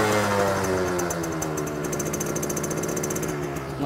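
A used sport motorcycle engine idles steadily and smoothly up close, a continuous low rumbling hum with fine rapid ticking, with no voices over it.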